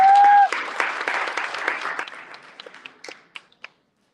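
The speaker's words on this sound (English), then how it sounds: "with a big round of applause" Applause from an audience at a demo day event, a full burst of clapping that thins out into a few scattered claps before stopping.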